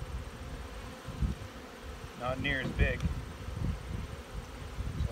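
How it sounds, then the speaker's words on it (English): Honeybees drone in a steady, close buzz around an opened nest with emerging brood, a continuous insect hum throughout while someone speaks briefly over it. "So I'll pull some bees right from where the center of the nest is"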